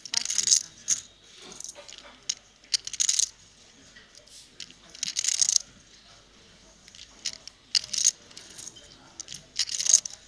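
Poker chips riffled in a player's hands at the Triton Poker Series main event final table in Montenegro, heard close up as repeated crisp clicking bursts separated by short pauses, with faint background murmur.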